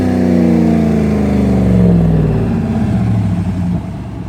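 A Dodge Ram Hemi with a Y-pipe muffler delete is floored and revs loudly, its deep exhaust roar rising and then settling back. The sound is close, continuous and alone.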